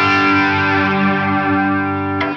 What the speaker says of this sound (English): you can hear it brings the chorus level in.